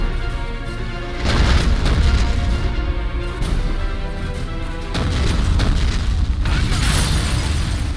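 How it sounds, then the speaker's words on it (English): Heavy booming blasts from a self-propelled howitzer in the war game Men of War, loud low-end detonations arriving in two or three big surges that roll and rumble over a continuous battle din. "howitzer is just causing complete and utter chaos."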